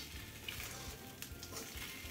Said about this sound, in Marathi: बस एकदा व्यवस्थित मिक्स करून घेऊयात.